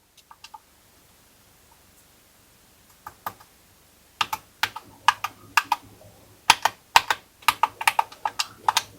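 Computer keyboard keys clicked to map controller buttons on a mini PC game console setup: a few isolated taps, then a quickening run of crisp close clicks, with no talking.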